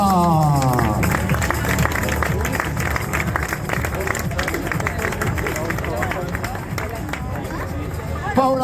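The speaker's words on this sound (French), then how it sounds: "Applaudissements pour notre vainqueur du jour, Paula" Crowd applause and clapping for the winner at a Granfondo Vosges cycling event podium, mixed under loud music and announcer speech with general hubbub throughout.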